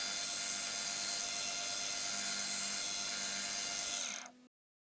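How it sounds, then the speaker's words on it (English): A milling machine cuts a flat on a small metal part for a wobbler engine, giving a steady, close mechanical whir with a high cutting tone that holds for about four seconds and then winds down and stops. "I'll just be milling this flat now"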